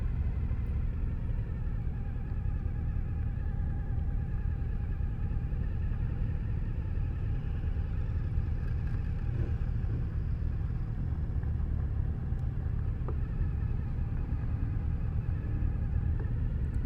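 A 2014 Suzuki DL1000 V-Strom motorcycle rolls along at slow, balancing speed, its engine a steady low rumble throughout with faint wind and road noise and no talk.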